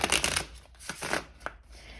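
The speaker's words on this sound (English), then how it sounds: "I just kept shuffling because I was just trying to kind of get the card" Tarot cards are shuffled close up in quick soft riffling bursts, papery flutters and slaps repeating unevenly over a couple of seconds at low volume.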